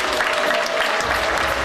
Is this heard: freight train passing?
no